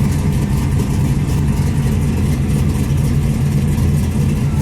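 A 1970 Buick Skylark restomod with a 427 engine idles steadily, a loud, close, continuous low rumble that holds even throughout, with no voices over it.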